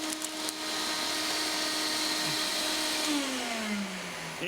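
Desiccant beads rushing hard through a homemade vacuum loading tool, a steady loud hissing flow with faint rattling that holds for several seconds, then a rising whine near the end, no voices.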